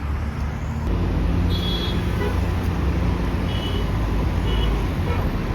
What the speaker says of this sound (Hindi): ये देखो सामने कंस्ट्रक्शन हो रहा है, पीछे लंबा ट्रैफिक है